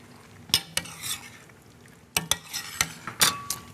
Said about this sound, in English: stir in the lardon.